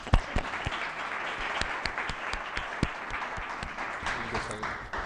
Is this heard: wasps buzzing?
no